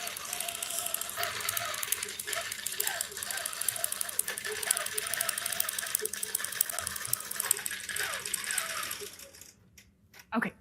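A quilting sewing machine stitches a line across a quilt, its rapid mechanical ratcheting clatter running steadily for several seconds before stopping, with a few brief knocks afterward and a voice talking quietly at times.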